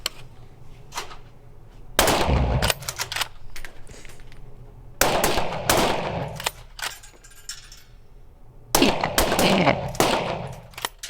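Hunting rifle shots fired during shooting practice at a shooting cinema, three loud, sharp reports several seconds apart, each with a long echoing tail, with fainter knocks and handling noise between them.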